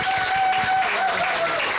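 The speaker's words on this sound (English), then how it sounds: "let's give these two splendid ladies a great round of applause" An audience gives a short round of applause for two authors at a mystery night event, a dense even patter of clapping with a sustained tone running beneath it.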